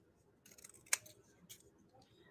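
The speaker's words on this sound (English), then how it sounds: "I'm going to actually trim it kind of at an angle." Scissors snip through paper to trim a paper arrow at an angle for a craft, a few quick close crisp cuts with one sharp snip standing out, no talking.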